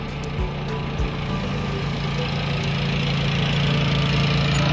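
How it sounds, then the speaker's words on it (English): Tractor engine running steadily at idle, a continuous low mechanical drone with a constant throb, loud and close throughout with no talk. "A tractor."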